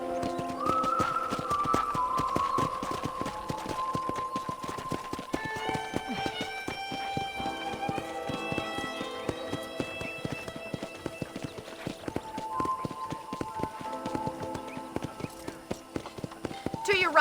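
Rhythmic clip-clop of a trotting horse in Red Dead Redemption on PC keeps a steady beat under melodic game music that shifts through several notes.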